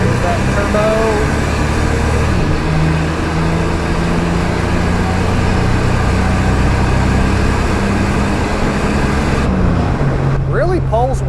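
A 1987 Buick Grand National's turbocharged engine runs steadily while driving, a loud continuous drone with a rising whistle layered over the low rumble, heard from inside the car with brief voice fragments.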